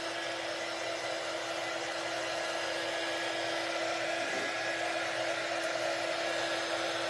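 A hair dryer blowing on a farmhouse tile door craft, a steady close whirring drone with an even hum that holds unchanged throughout, with no talking.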